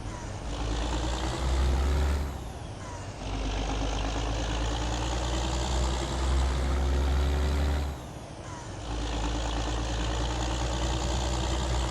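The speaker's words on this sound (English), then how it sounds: "jake brake here." A heavy International 9900i truck in a simulator rumbles with a deep, steady engine drone, and its jake brake gives a loud low blatting roar that swells, cuts off with air-brake hisses, then resumes.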